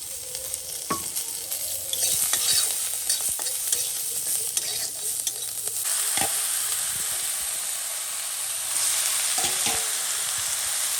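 Bay leaf, cumin, garlic and green chili crackle in hot oil, a dense steady sizzle close by, punctuated by scattered spoon scrapes and clinks against the pan.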